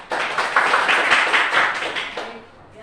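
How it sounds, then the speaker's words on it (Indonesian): A small class in a Catholic religious education session claps together, a brief, close round of rapid handclaps that swells quickly, holds for about two seconds and then tapers off. "Tepuk tangan."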